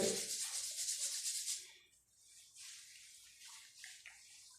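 Palms rub briskly together during a yoga session, a close, steady swishing friction that fades after about two seconds, then returns as softer intermittent rubbing.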